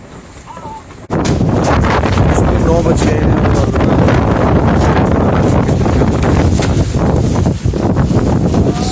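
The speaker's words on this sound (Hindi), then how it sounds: "यहाँ पे तूफान चल रहा है बाहर।" Storm wind roars outside a tent in a snowy mountain village in winter, a steady loud broadband rush that starts abruptly and keeps blowing, with a person speaking briefly over it.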